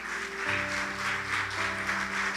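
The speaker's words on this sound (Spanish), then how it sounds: "Denle un fuerte aplauso al Señor." A church congregation claps through a moderate, continuous patter of applause, while sustained keyboard or organ tones hold steady underneath.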